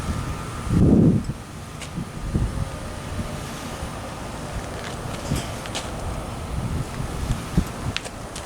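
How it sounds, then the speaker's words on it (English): Breezy outdoor wind buffets the microphone in low rumbling gusts, strongest in a brief burst near the start, then steady and moderate throughout. "It's a little bit breezy today"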